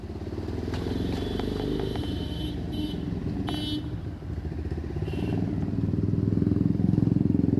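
Royal Enfield Bullet motorcycle passing on a busy street, its thumping engine rumble building and growing louder toward the end amid surrounding traffic clatter, with a faint horn toot.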